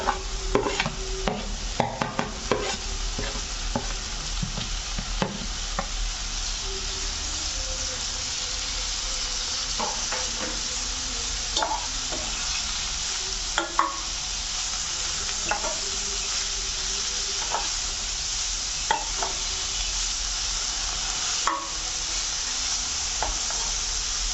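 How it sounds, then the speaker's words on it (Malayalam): Finely chopped banana flower stir-fried in a pan for a cutlet filling, a continuous close sizzle broken by frequent scraping stirs and light clinks of the spatula. "ഇനി ഇതിനകത്തേക്ക് നമുക്ക് ചെറുതായിട്ട് അരിഞ്ഞു വെച്ചിട്ടുള്ള വാഴക്കൂമ്പ് ഇട്ട് കൊടുക്കാം."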